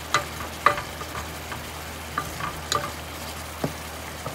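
Food pieces cooking in a pan under a low, quiet sizzle, with several sharp utensil clicks and taps as pieces are turned, close and unaccompanied by speech.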